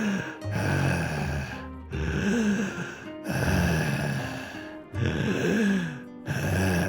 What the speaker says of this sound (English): Some heavy breathing going on there.